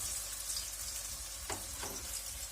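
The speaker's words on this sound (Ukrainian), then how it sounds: "І воно смажиться," Steady sizzling of potatoes and chicken wings frying in a pan, a continuous bright crackle with a couple of brief louder spits midway, no talking.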